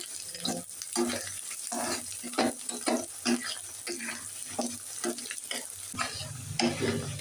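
Chopped onions and three bay leaves frying in a pan for a broiler chicken curry, crackling sizzle broken by repeated rhythmic stirring scrapes throughout, close and moderately loud.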